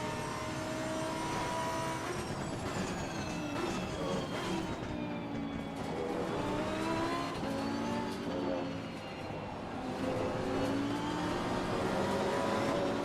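Race car engine from Assetto Corsa Competizione, a BMW GT car lapping Imola, droning steadily and loudly with rising and falling pitch through gear changes and corners for the whole stretch, no one talking.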